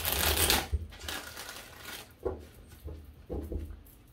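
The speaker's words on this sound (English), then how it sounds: "I'm going to give this 5 shuffles." Tarot cards are shuffled in short bursts of riffling and tapping, a few separate rustling shuffles spaced across the moment, close and fairly quiet with no talk.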